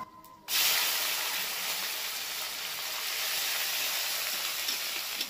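Spice paste of ground melon seeds and coconut hitting a hot pan, a sudden loud hiss that starts abruptly and then holds as a steady bright sizzle for several seconds.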